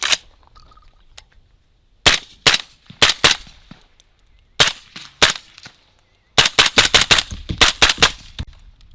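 Suppressed gunshots from a 300BLK short-barreled rifle: sharp, loud cracks come singly and in quick strings of rapid fire, with a long rapid burst near the end and brief silences between groups.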